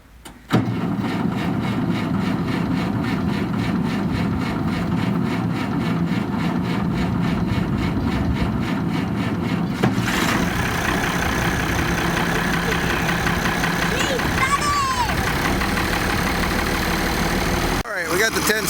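A big International 1066 farm tractor, warmed up after a winter layup, idles steadily at close range with a deep, even diesel rumble throughout, briefly joined by louder clatter near the end, while people talk over it.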